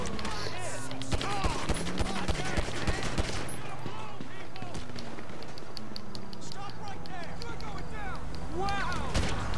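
Gunfire in Grand Theft Auto V during a police shootout with a stolen Mercedes SUV, loud rapid bursts and fusillades running almost nonstop, with someone talking over the shooting.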